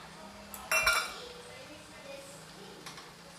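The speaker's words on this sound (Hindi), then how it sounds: "अब मैं डाल दूँगी टमाटर।" Finely chopped tomatoes going into a pot of cooking sambar: a brief metallic clink and clatter of utensil on pot, then quiet low kitchen background.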